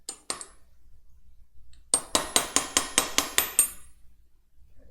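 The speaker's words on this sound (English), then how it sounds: "I'm not hammering loud enough that it's going to hurt his ears" A hammer strikes metal on a car part during garage work: two quick taps, a pause, then a fast run of about nine ringing, clanking blows, close and sharp, with no voices.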